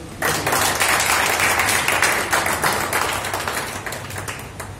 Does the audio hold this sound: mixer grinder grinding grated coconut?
no